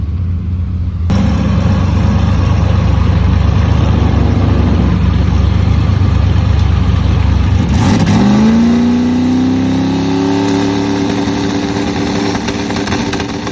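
Miata drag car holding a loud, raw engine roar at high revs, then a rising, sweeping pitch as the burnout builds, continuous and close with no talk.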